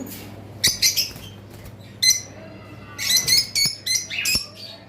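Pet cockatiels and lovebirds call inside a bird shop, giving sharp, high chirps and squawks in short bursts over a steady low hum, some close and loud, others fainter.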